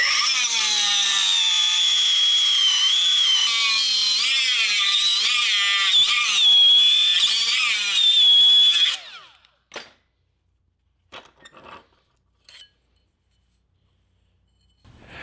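A battery-operated power tool cuts through 3/16-inch steel plate clamped in a vise, whining loud and steady with a slowly shifting pitch for about nine seconds, then stopping; a few faint knocks and handling sounds follow in near silence.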